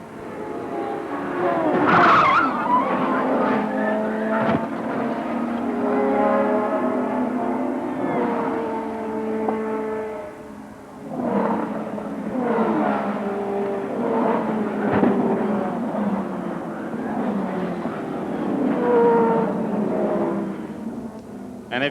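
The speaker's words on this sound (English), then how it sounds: "absolutely rammed into one of those stationary cars" A 1994 IndyCar crash replay: a race car skids hard into stationary cars with loud, prolonged tire squeal and whining engine notes rising and falling for about twenty seconds.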